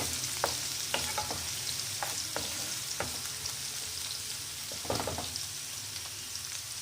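Carrot, potato and peas sautéed in a pan for gajar aloo matar sabzi: continuous low sizzle with periodic scraping and clinking of a spatula stirring the vegetables, no talk.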